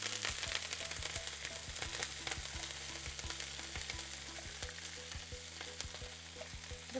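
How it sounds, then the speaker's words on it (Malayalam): Chopped kale stir-frying in a pan for a Kerala-style thoran, a steady close sizzle with frequent sharp crackles and pops running throughout. "അതിനുശേഷം നമ്മൾ അരിഞ്ഞു വെച്ചിരിക്കുന്ന കെയിൽ ഇതിലേക്ക് ഇടുക."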